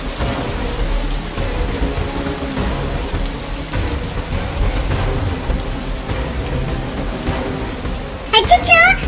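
Heavy, steady rain pours down with low rumbles of thunder rolling underneath throughout. A sharper, louder burst with a brief voice-like sound comes at the very end.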